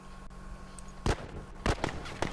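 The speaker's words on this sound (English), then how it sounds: "Whoa, that's a firefight." Gunfire in a multiplayer firefight in The Last of Us Remastered: three sharp, booming shots spaced about half a second apart ring out over a low, steady background rumble.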